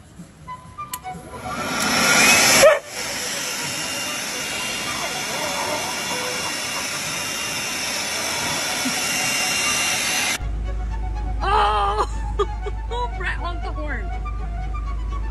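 A blower runs as a loud, steady rushing hiss that builds, cuts out briefly, then resumes and continues at an even level, with voices and a few other sounds briefly over it near the end.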